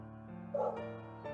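A pet dog gives a short, close yip or bark over a steady harmonic background hum, lasting about a second.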